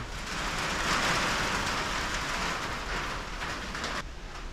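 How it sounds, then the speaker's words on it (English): Steady, dense rain drums on a clear plastic pole barn roof, a loud even hiss with no breaks and no voices. "It's already blocking rain."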